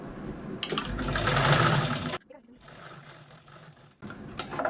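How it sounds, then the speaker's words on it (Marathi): A sewing machine stitches a fabric piping strip onto a reused blouse piece, with a loud continuous run that fades and stops, then restarts for another close burst at the end. "आता दुसऱ्या साईडने पण मी सेम त्याच पद्धतीने ही पट्टी पण स्टिच करून घेते"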